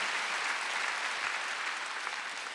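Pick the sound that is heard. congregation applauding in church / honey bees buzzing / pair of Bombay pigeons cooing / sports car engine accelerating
congregation applauding in church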